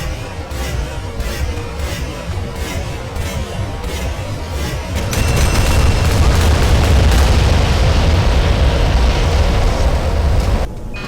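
A bomber's string of bombs exploding in the Modern Warships naval combat game, heard as rapid repeated booms that swell into a loud sustained rumbling roar, then cut off abruptly near the end.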